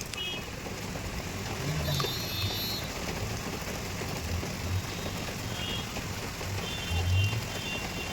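Heavy rain pours steadily onto a surface, a dense continuous hiss with scattered louder drips and patters, close and unbroken throughout, with occasional faint low thumps beneath.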